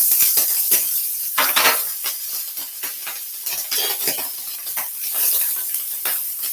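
Ham searing in a hot pan with avocado oil: a loud, close, steady sizzle with crackling surges and occasional clinks of a utensil against the pan, with no talking.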